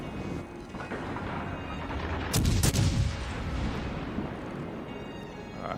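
Naval gunfire in the video game World of Warships, heard as a few booming salvos over a low continuous rumble, with the loudest cluster of blasts near the middle.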